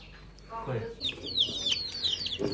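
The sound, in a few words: chick chirping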